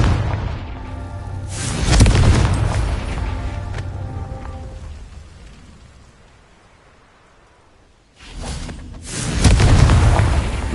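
Confringo fire spell from Hogwarts Legacy blasting in two loud booming bursts, the first near two seconds with a long rumbling decay, then a quiet lull before a second heavy explosive burst and lingering roar.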